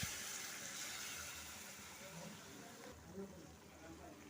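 Water is poured into a pan of cooking snake gourd seasoned with turmeric and salt, a steady splashing hiss that fills the whole moment without pause.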